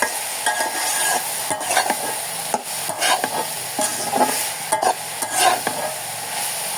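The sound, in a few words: vegetables stir-frying with chili and coriander in a pan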